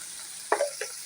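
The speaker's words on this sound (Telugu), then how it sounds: "ఉల్లిపాయ పచ్చిశనగపప్పు కొంచెం అటు ఇటు ఫ్రై చేసుకోవాలి, ఇట్లా తిప్పుకుంటూ" Onion and chana dal fry in a pan as a spoon stirs them, giving a soft steady sizzle broken by a couple of brief scraping strokes.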